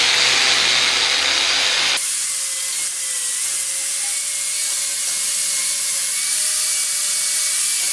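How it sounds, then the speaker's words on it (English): A flap wheel on a grinder working both faces of a forged steel oak branch with acorns, a loud continuous whine and hiss after a brief harsher burst at the start, holding an even pitch throughout. "Now I go over both sides of the flap wheel"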